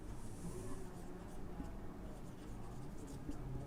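Pen or marker scratching steadily on a board or paper during a physics lesson on force and pressure, a faint continuous scratchy texture with no talk over it.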